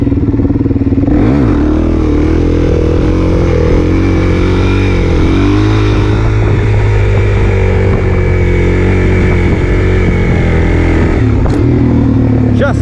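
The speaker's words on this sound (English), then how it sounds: "I'm gonna stay in first gear, and I'm gonna ride it all the way across" Loud, close motorcycle engine held in first gear while riding, a steady drone with slight pitch swells as the throttle is worked, and wind buffeting throughout.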